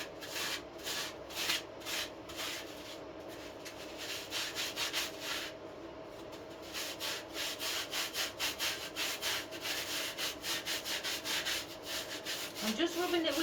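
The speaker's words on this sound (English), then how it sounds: "I'm just rubbing it with another piece of foam, just to take all the rough parts of the foam off, so it softens." Foam rubbed against another piece of foam to smooth its rough parts, part of making an artificial Christmas display; a steady, close, rhythmic scrubbing and brushing that runs continuously with no talk.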